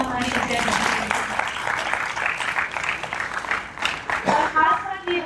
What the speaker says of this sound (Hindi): जोरदार तालियां हमारी विद्या दीदी के लिए